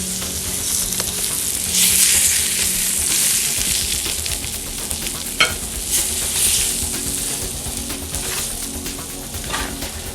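Salmon fillets sizzle and spatter in a hot pan, a steady loud crackle with scraping and clinks as the pieces are flipped partway through.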